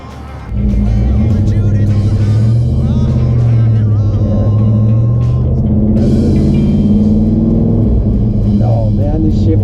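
A 1957 Chevrolet Bel Air street machine revs its engine loudly up close, a deep sustained roar that climbs and falls with throttle blips throughout, with people talking over it.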